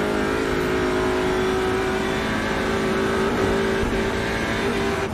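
TCR race car at full throttle through a daytime VLN lap, engine screaming near redline with a steady loud harmonic whine and brief dips at shifts, close and continuous.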